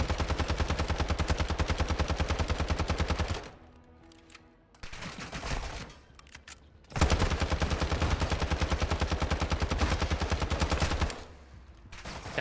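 Call of Duty DMZ firefight with loud, sustained automatic gunfire in long rapid bursts, broken by two short lulls before the shooting resumes close and dense.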